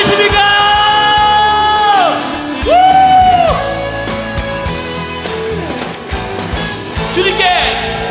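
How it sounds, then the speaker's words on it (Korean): A church congregation at a family revival service shouting loudly together: a sustained, powerful mass of raised voices that swells, pauses briefly and surges again at close range. "마지막 후회하지 않도록 한 번 더 주님 사랑만큼 소리 지르세요."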